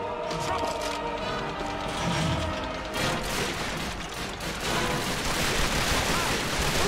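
A gun in the Call of Duty Finest Hour video game fires in dense, overlapping bursts amid booming explosions, loud and continuous, with more cracks layering in toward the end.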